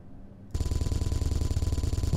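Rapid automatic weapons fire in the Space Engineers video game, starting abruptly after a quiet moment and continuing as a dense, loud, steady burst with no talking.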